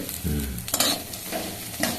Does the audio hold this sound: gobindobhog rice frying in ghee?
yes